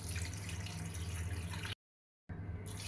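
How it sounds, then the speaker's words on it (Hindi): Water from glasses is poured into a pot of mutton curry (kulfa gosht), a close, trickling splash that cuts out briefly and then resumes, with no talking. "अब इसके अंदर हम शामिल करेंगे 2 ग्लास पानी"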